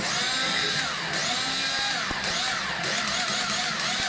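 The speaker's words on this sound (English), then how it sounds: "he's just using the sound of the drill to hit the mic" A loud, constant electric drill whine picked up by an electric guitar's pickup with the drill held against it, its pitch swooping up and down in repeated sweeps.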